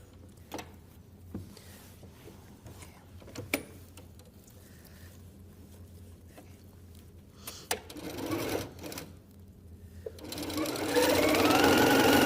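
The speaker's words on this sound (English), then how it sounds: "Then you can fold it back over and sew down the rest of it." Sewing machine stitching down quilt binding: scattered clicks and short starts at first, then a brief burst of stitching and finally a loud, steady, fast-running hum over the last couple of seconds.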